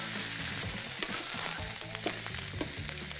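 Tomato juice sizzles steadily as it browns in a braising pot, a continuous close frying hiss with small crackles throughout and no talking.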